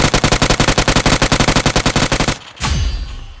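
Rapid automatic rifle fire in a video game, a fast even burst of about two dozen loud close shots, followed by a short pause and a heavier impact or blast with a trailing rumble.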